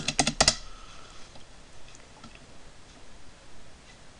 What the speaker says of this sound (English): So you type in your password.